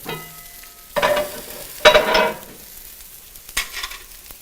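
Sofrito sizzling with rice in a cast iron pan, with bursts of frying hiss as it is stirred: three loud scraping, sizzling surges over a low steady crackle, close by.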